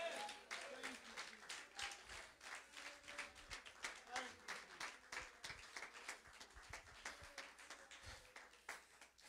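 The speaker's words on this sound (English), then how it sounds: "somebody clap your hands to the Lord" Congregation clapping hands during a Sunday worship service, a steady rhythmic clapping from a group that continues throughout, fairly faint and distant, with voices mixed underneath.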